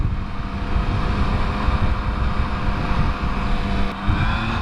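A 2017 Yamaha FZ-09 motorcycle accelerating hard on the road, its engine a loud, steady roar with strong wind rush that holds from start to finish.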